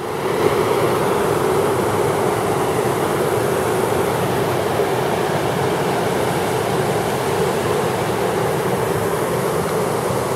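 Steady broadband rush of river water flowing at Grutas Tolantongo, Hidalgo, Mexico, continuous and fairly loud throughout, with no voices.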